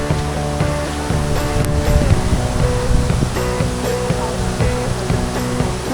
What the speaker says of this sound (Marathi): या ठिकाणी खूप छान असा एक धबधबा आहे